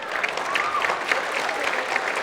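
Dense applause from an audience in Tilak Hall, Varanasi, after a motivational speech, a continuous wash of clapping with a faint whistle rising briefly above it.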